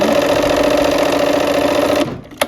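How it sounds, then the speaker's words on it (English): A sewing machine stitches a triangle onto a quilt block, a loud steady close whir for about two seconds that cuts off, followed by a single quick click. "We're going to sew that first triangle on"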